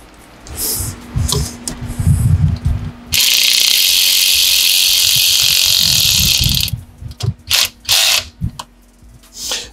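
Ratchet clicking while tightening intake parts on a 2022+ Subaru WRX, short bursts of close metallic clicks around a few seconds of steady mechanical whirring, then more rapid ratchet strokes.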